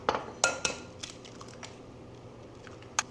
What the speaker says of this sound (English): so let's crack some eggs